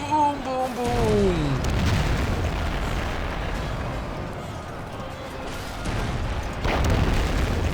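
Cannon fire and explosions rumble through a naval and land battle in the strategy game Anno 1404, a dense sustained roar of booms under someone speaking German.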